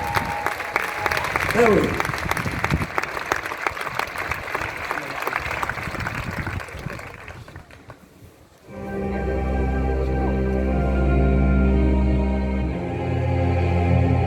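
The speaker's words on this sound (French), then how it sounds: "Les applaudissements d'abord." A concert audience applauding musicians and singers of an orchestra, dense sustained clapping under a voice that gives way to orchestral music starting up.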